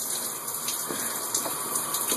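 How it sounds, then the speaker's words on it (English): Hot water pouring from a shower aboard a 65-foot sailboat, a steady, close hiss and gush running continuously. "I am showering on my boat"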